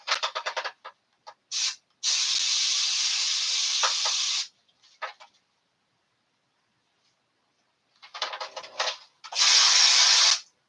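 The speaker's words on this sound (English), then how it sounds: "I'm going to spray this off camera." An aerosol can of general purpose adhesive hisses in several bursts, some short and stuttering, others long and steady, separated by silent gaps.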